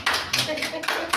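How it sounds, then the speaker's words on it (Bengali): A short burst of a few quick hand claps during a Bengali engagement celebration, with talk mixed in around them. "বাহ, হাততালি"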